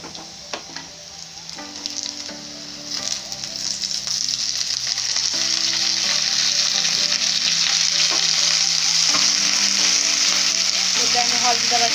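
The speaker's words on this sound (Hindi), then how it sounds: "प्याज दबा थरे हल्का फ्राई कर नबा" Onions fry in a pan for an Odia dahi pakhala meal, a steady loud sizzle filling the whole stretch while faint background music plays underneath.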